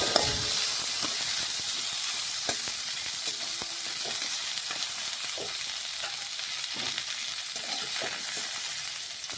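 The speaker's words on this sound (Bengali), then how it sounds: "ডিম আলু ফুলকপি সমস্ত কিছু আমি ভেজে তুলে নিচ্ছি" Egg, potato and cauliflower frying in mustard oil in a wok, a steady close sizzle running throughout with scattered stirring clicks and scrapes of a utensil against the pan.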